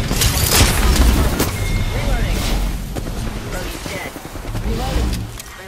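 Bursts of gunfire in the battle royale shooter Apex Legends, with repeated sharp cracks and low booms in the first seconds over a constant rumble of wind and game ambience.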